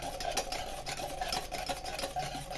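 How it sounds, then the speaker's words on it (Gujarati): A spoon stirs a creamy cappuccino coffee mixture in a cup, giving a steady, close scraping swirl with faint repeated clinks, continuous for the whole stretch with no talk. "હલાવવું, જેથી કરી મિક્સ થઈ જાય"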